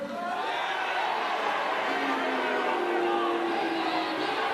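Steady roar of a live wrestling crowd at the WSW Rise Against Adelaide event, cheering and shouting continuously in a large venue throughout, with no single voice standing out.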